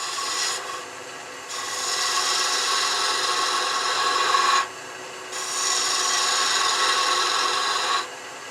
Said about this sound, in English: The little curly cues are coming off.